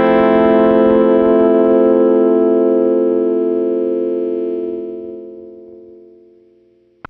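Electric guitar through a compression pedal, distorted: one sustained chord rings out loud and steady for several seconds, then slowly dies away, ending with a faint click.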